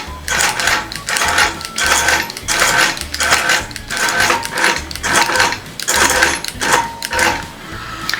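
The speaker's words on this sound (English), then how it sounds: "When I run this long basting stitch, my stitches are usually about 1/2 inch to 1/4 inch apart." A sewing machine runs a long basting stitch for machine quilting, its needle thumping in a steady repeating rhythm of roughly one cycle per second, loud and close with a mechanical rattle.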